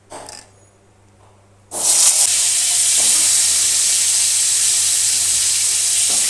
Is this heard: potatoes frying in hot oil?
yes